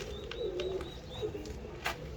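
Pigeons coo softly in a loft, a few low rolling calls repeating close by over faint background noise.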